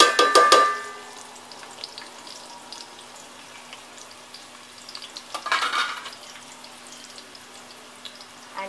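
Three medium onions, sliced lengthwise, go into hot oil in a village kitchen for dry mutton, with a loud splash and stirring clatter at first, then a steady, low sizzle and another stir.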